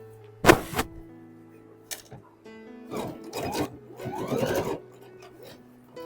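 A sewing machine stitching a kurti runs in short bursts, a sharp whirring start followed by several brief stitching runs, close and fairly quiet with pauses between.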